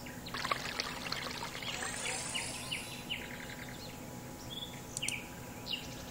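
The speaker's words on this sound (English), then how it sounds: "Maybe I can make it rain for them." Rain is poured over thirsty mushrooms in the video game Forest Legends: a soft, steady trickling pour lasting several seconds, faint and airy, with light chirping game sounds scattered over it.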